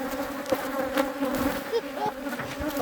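Honeybees buzz at an open hive in a dense, continuous drone close by, with a few individual bees whining past.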